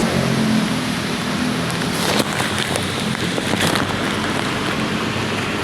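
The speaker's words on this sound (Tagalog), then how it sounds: "Lakas pa naman ng ulan" Heavy rain pours beneath a bridge near the Oliveros LRT station, a dense, unbroken roar with no voices.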